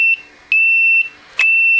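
A REX-C100 temperature controller sounds its alarm in sharp, loud electronic beeps, roughly three long tones separated by brief gaps, alone with no talk.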